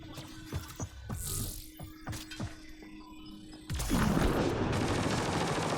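Sharp intermittent gunshots in Mass Effect: Andromeda, several separate cracks early on, then a sustained loud burst of rapid firing and debris toward the end, with no talking.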